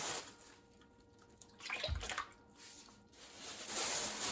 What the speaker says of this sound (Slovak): Do hrnca nalejem studenú vodu.